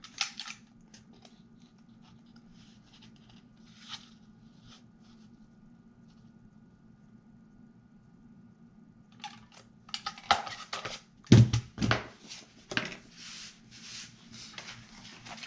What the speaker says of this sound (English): So I am going to find my original hole, and I will punch.